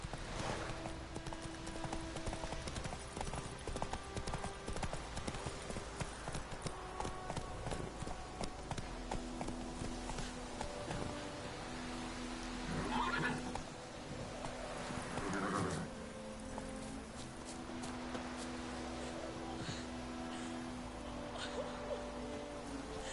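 Horse hooves clip-clop in a steady trot or gallop in The Witcher 3 video game, heard over continuous in-game music and ambience, with no clear whinny.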